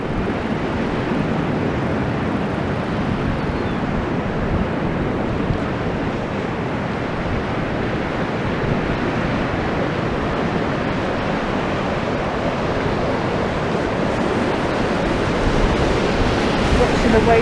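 Sea waves rolling onto the shore along a windy seaside promenade on a bright cold day, a continuous broad wash of surf and wind noise with no voices.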